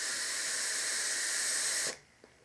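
A Lethal RDA clone vape fires with a steady, airy hiss for about two seconds as thick clouds are produced, then it cuts off abruptly into near silence.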